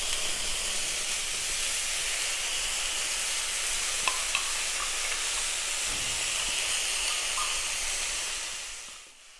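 Ginger garlic paste hits a hot pan for a bachelor-style chicken dish, setting off a loud, even sizzle and hiss that holds for several seconds with faint stirring taps before it fades.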